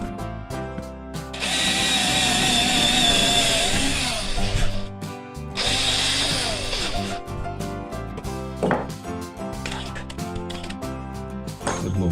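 A power drill whirs in two long loud bursts drilling into a wooden floor, followed by lighter clicks and scraping handling sounds nearby.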